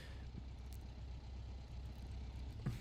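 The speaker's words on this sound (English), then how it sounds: "Jeep engine is still on" A Jeep engine idling in the World War II game Men of War Assault Squad, a low steady rumble heard alone at modest level.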